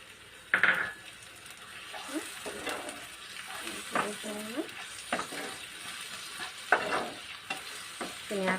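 Paneer masala with milk sizzles in a frying pan while a utensil stirs and scrapes, with intermittent clinks against the pan and a faint voice in the background.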